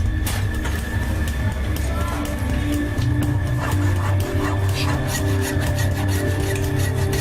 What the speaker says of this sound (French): on a pu commencer à scier les barreaux